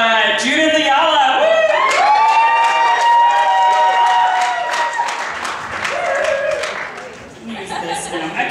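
A comedy show crowd applauds and cheers, with whoops and loud sustained clapping that swells and then eases, while someone calls out over it.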